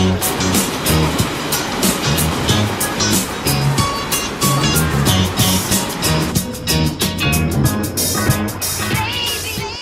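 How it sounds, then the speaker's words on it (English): A big water wheel turns near caves, its churning, splashing water making a loud continuous rushing roar with irregular surges, close and dominant throughout. "Whoa, look at this big water wheel thing."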